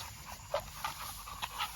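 A four-year-old lead dog pants close to the microphone, with a quick, soft rhythm of breaths and a few faint whimpery edges against a low background hum.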